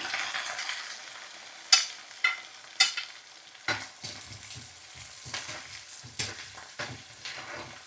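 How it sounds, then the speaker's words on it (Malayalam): Green chilli, garlic and ginger sautéing in a pan with mustard seeds, fenugreek and dried red chilli, a steady soft sizzle broken by a few sharp scraping stirs of a spoon, close and without voices. "ഇനി ഇതൊന്ന് വഴറ്റിയെടുക്കാം"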